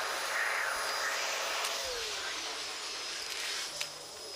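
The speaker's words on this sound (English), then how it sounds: "Someone's doing the hoovering." A vacuum cleaner drones steadily somewhere in the background, a broad, even whooshing hum that holds without a break, with a faint metallic click near the end.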